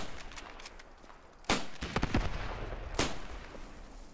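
Machine gun suppressing fire in the Post Scriptum video game, with two sharp loud shots standing out among quieter rattling bursts and steady background battle noise.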